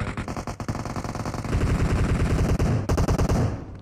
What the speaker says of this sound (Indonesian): Oh, teman gue yang nembak.